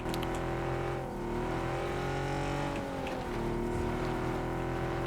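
A car engine drones steadily in PUBG, holding a continuous hum with slight pitch dips as the vehicle drives, with no talk over it.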